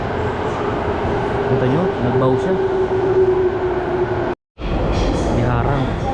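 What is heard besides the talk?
LRT light rail train passing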